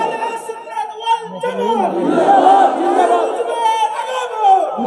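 A large crowd at an outdoor religious gathering on Station Road, Fruitmandi, Chattogram chants a slogan together, a loud, sustained mass of voices rising and falling in unison.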